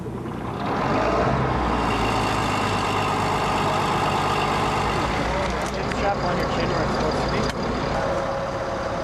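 Light-armored vehicle (LAV) engine idling with a steady low rumble, loud and continuous throughout, with some clanking and background activity layered on top.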